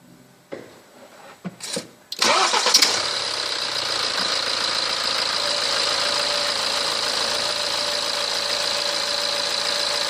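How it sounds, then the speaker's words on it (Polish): A few clicks and a cranking starter, then a BMW N47 diesel engine catches and settles into a steady, slightly knocking idle close by, after a timing chain replacement. "Próbuję uruchomić silnik."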